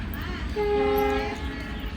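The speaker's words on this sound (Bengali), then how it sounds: "মাসির বাড়িতে ট্রেন যাইতেছে সব সময় ট্রেন যাইতেই থাকে" A train sounds its horn in steady tones over a continuous low rumble of rolling cars, moderately distant.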